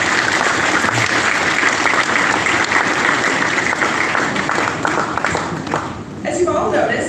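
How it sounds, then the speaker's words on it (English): Incoming freshmen at a UW-Madison orientation applaud their families: loud, sustained crowd clapping fills the hall throughout, dipping slightly near the end. "Students, would you join me in giving your families a round of applause?"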